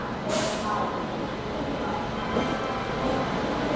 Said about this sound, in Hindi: इंडिया की लॉन्गेस्ट रनिंग राजधानी एक्सप्रेस एंट्री ले रही है वैप 7 के साथ